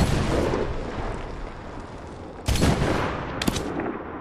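Incoming mortar rounds in the Medal of Honor video game on PlayStation 3: a steady rumble of battlefield noise broken by a loud impact burst near the middle and a sharper blast shortly after.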